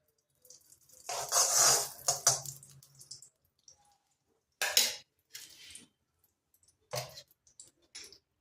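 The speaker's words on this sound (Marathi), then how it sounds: "आता एक मोठा चम्मचभर आपण तूप घालूयात" A spoon scraping and clinking against a pan as a large spoonful of ghee goes in for sesame chikki, a few short metallic bursts with quiet gaps between, close and moderately soft.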